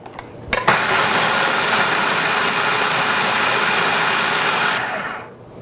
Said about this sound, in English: Let's grind this up a little.